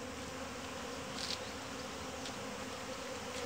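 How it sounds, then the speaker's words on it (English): Continuous buzzing of a swarm of bees moving into a hive, a steady droning hum that fills the space, with occasional louder individual bees passing close by. "this is what it looks like when bees move in"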